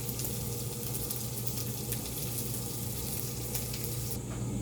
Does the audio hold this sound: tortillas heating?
yes